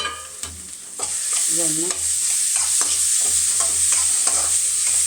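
Grated coconut and vegetable thoran mix being stirred in a pan after mustard seeds are fried, with a steady sizzle and repeated scraping strokes of the spoon, and a brief spoken word at the start.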